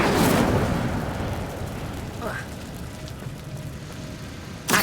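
A fiery Incendio spell bursts out in the video game Hogwarts Legacy: a loud, broad roaring whoosh at the start that fades into a crackling, rain-like hiss, with a sharp burst right at the end.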